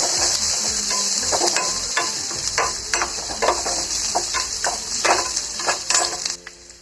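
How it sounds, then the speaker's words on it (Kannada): Onions with curry leaves frying in hot oil for a liver fry, a steady loud sizzle with repeated scraping stir strokes throughout, cutting off near the end. "ಈರುಳ್ಳಿ ಸ್ವಲ್ಪ ಎಣ್ಣೆಗೆ ಚೆನ್ನಾಗಿ ಫ್ರೈ ಆಗಬೇಕು."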